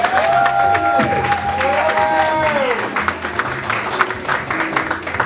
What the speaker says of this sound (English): Give a rousing round of applause to